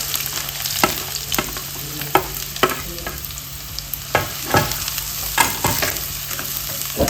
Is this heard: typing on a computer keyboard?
no